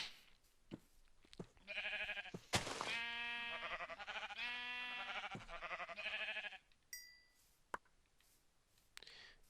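Several sheep bleat in Minecraft, a run of loud, close, wavering bleats crowding together over a few seconds, with short clicks and thuds around them and brief game sounds near the end.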